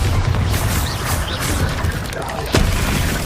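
A Bombarda blasting spell goes off in the Hogwarts Legacy game, a booming burst over dense rumbling battle noise, with a sharp hit near the end amid other spell effects.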